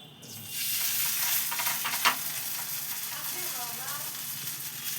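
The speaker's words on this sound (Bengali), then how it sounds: "এবার তেলের মধ্যে আমি এই যে বড়ার আকার দিয়ে দিচ্ছি।" Flattened rice (chira) fritters frying in hot oil, a continuous bubbling sizzle that swells as batter is dropped in, with a sharp crackle near the middle.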